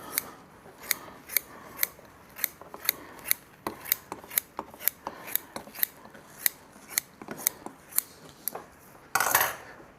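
Scissors trimming upholstery fabric tight against staples on an ercol wing chair, a quick series of crisp snips at an irregular but steady pace, close and loud with no talk.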